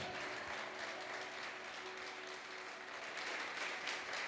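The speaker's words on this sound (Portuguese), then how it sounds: "Vamos aplaudir mais forte, irmãos" A church congregation applauds in worship, a broad wash of continuous clapping from many hands, steady and fairly distant, sustained for several seconds without speech over it.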